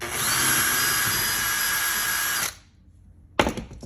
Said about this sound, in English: You want to drill a hole here.